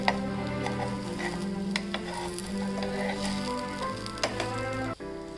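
Aloo paneer flatbread sizzles steadily in a hot pan while it is turned, a close, continuous crackle with a few scraping ticks and a soft thump near the end, with no talking.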